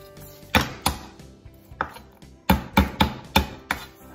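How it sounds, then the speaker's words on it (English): Garlic cloves are struck hard against a kitchen surface to loosen the skin, giving about ten sharp, close thumps in irregular bursts, with no talking. "I like to kind of beat the garlic so then the you could peel off the skin so much easier"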